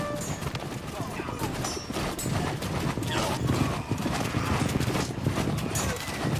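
Horses in a strategy video game, a dense clatter of hooves with whinnies over continuous battle noise, heard under a voice.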